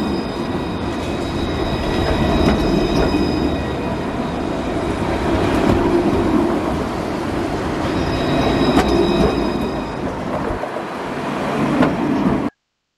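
A Luas tram passes through Dublin city centre, rolling rumble with faint wheel squeal building and holding steady for about twelve seconds before cutting off abruptly.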